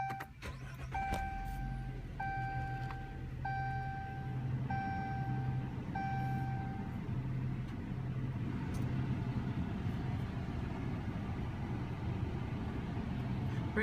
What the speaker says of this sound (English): Put your foot on the brake and press the button to start.